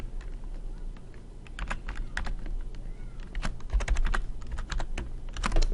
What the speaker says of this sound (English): So let me type it in here.